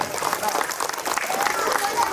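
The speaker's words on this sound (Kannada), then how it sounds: "ಒಂದು ಜೋರಾದ ಚಪ್ಪಾಳೆಯನ್ನ ಕೊಡೋಣ ಬಂಧುಗಳೇ" An audience claps together at a public talk, a short burst of dense applause mixed with crowd noise.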